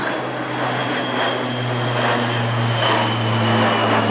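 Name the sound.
airplane flying overhead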